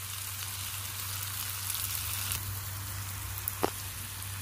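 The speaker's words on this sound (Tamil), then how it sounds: "இது வந்து நல்லா கோல்டன் ப்ரௌனாக வர்ற வரைக்கும் நம்ம வந்து ஃப்ரை பண்ணிக்கலாம்." Onion fries in a pan for egg Manchurian, making a steady soft sizzle with a low hum beneath it and a few sharp pops near the end.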